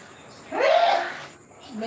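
A single sneeze near a football commentary microphone at a Haiti versus Scotland match, fairly loud and close, heard over steady crowd and broadcast background noise.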